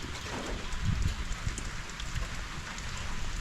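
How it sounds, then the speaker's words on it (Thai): Heavy rain falling at a house, a dense continuous patter and hiss with some heavier close drops, no talk. "ฝนมันยังตก"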